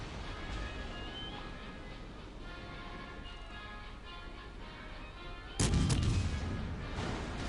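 A battleship's front turrets fire in World of Warships, one deep, loud boom bursting out over a steady rumble of engine and ocean ambience, with a trailing rumble afterward.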